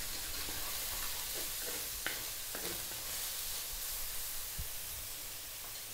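Fried rice with carrots and soy sauce sizzles steadily in a pan while a utensil stirs and scrapes, with a few sharp scraping clicks over the constant hiss, fairly quiet and close.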